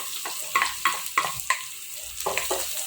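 Pork, garlic and onion frying in a pan for ampalaya guisado, with steady sizzle and a spatula scraping and stirring in sharp, regular strokes.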